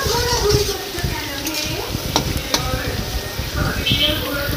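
Potatoes fry in a kadai with a soft, continuous sizzle, broken by occasional scraping and stirring clatter of a utensil against the pan at close range.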